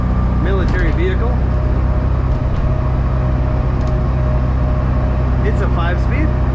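A 1976 Steyr-Puch Pinzgauer military vehicle with a 5-speed gearbox drives on the road, its engine a loud, steady drone with constant road and wind roar from start to finish and no speech.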